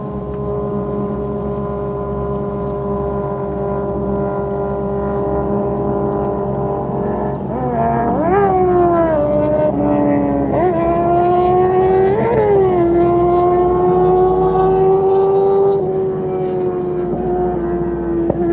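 A loud boat engine drones steadily, its pitch rising and dipping as it revs up and settles, running continuously throughout.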